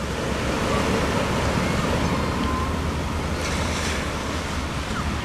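Ocean waves breaking along the shore in a steady, rushing roar of surf, mixed with wind noise and no voices.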